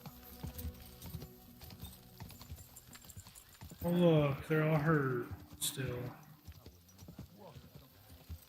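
Horse hooves clip-clop in a video game, a rhythmic trotting beat running under a player's talk, with a brief whinny-like cry in the middle.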